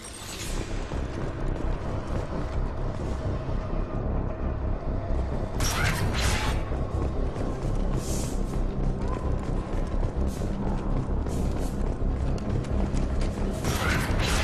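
A door to service tunnels in the Mass Effect 2 video game grinding open: continuous mechanical creaking and whirring with metallic clanks and hisses partway through, loud and close.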